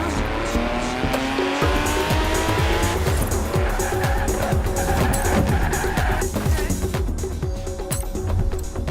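A car in the racing game Forza Horizon 4, its engine recently rebuilt after a blown head gasket and warped block, revs hard with tires squealing and skidding through corners, loud and continuous throughout.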